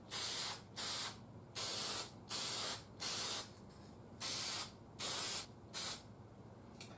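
Aerosol lacquer sprayed onto cloth-covered cotton radio wire during an Atwater Kent Model 35 restoration, heard as about nine short hissing bursts in a steady on-off rhythm, close and clear with no talking.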